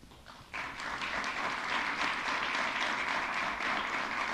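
At a San Antonio mayoral debate, audience applause starts suddenly after a brief quiet lead-in, then holds as a broad, steady wash of many hands clapping.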